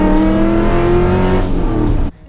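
Engine of a third-generation Chevrolet Camaro running loud and close with a steady harmonic drone, then cutting off abruptly near the end, no voices.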